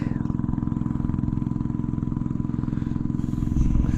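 A farm tractor engine labours through sticky mud in a steady, rapid, thumping chug, loud and close, and swells slightly heavier toward the end.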